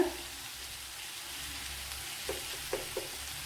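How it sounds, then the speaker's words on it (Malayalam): Onions, tomatoes and coriander powder fry in a pan for a cauliflower curry, giving a faint, even sizzle close by with a few light knocks of stirring near the end. "ഒരു രണ്ട് ടേബിൾ സ്പൂൺ മല്ലിപ്പൊടി ഇട്ട് കൊടുത്തിട്ടുണ്ട് തക്കാളി വാടി വന്നപ്പോഴാണ് മല്ലിപ്പൊടി ഇട്ട് കൊടുത്തത്"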